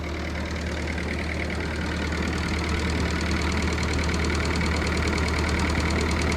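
A Ford 9N tractor engine runs steadily at idle with an even mechanical knock, close and continuous without a break, with no talk over it.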